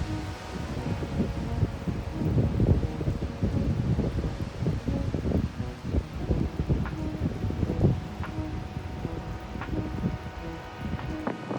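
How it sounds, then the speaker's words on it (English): Strong wind gusts past trees near a small off-grid wind generator, making a constant low, rumbling rush with uneven swells and buffeting bursts throughout. "As you can see, it's pretty windy, but the trees definitely block the strong winds coming from this direction."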